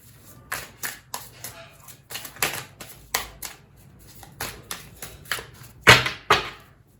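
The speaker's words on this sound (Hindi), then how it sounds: "तो पहले तो कार्ड्स में अच्छे से शफल कर लेती हूँ।" Tarot cards shuffled by hand in a rapid series of crisp, close riffles and flicks, with a louder burst near the end.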